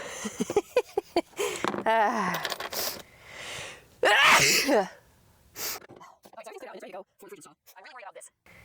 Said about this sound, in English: How many more times do you think I'm gonna sneeze?